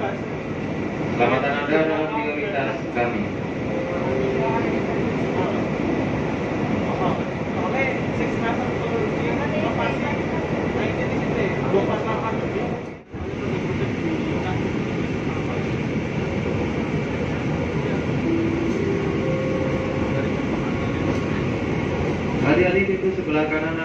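A KRL Solo–Yogya commuter electric train rolls along in a steady, loud rumble heard from inside the carriage, with a brief dip midway and faint tonal whines, under muffled onboard sounds.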